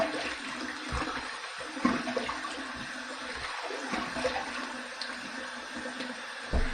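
Water runs steadily from a sink tap while a face is being wetted for shaving, a soft, constant rushing splash with small bumps of hands cupping water, and no talking.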